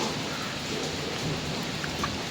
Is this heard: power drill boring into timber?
no